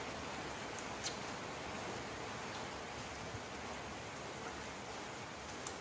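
Steady rain hisses densely over a surface, a constant wash of noise with an occasional louder drip or tick.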